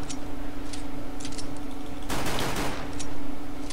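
Glock pistol gunfire in Counter-Strike: Global Offensive, several sharp shots sounding close and loud, with one dense burst in the middle over a steady game hum.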